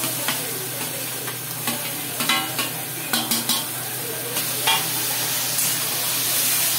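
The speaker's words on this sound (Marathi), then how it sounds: "हलवून घेऊ याला चांगल्यापैकी, आणि यात आपलं वांगे घालून देऊ आपण" Chilies, onions and eggplant are stirred in a sizzling pan, a spatula scraping and tapping in irregular strokes over a constant frying hiss, close and moderately loud, with no talking.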